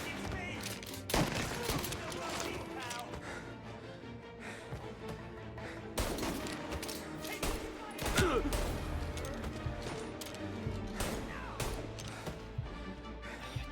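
Gunfire in the video game Mafia, repeated shots and bursts in a cover firefight, mixed under game voices and music at moderate level.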